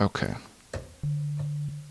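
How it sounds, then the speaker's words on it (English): After a short spoken word and some clicks, a plain steady low electronic sine-wave tone from the EXS24 sampler with no instrument loaded hums for under a second, pure and unvarying. "That's what the EXS24 sounds like before you load up an instrument. It's just a sine wave."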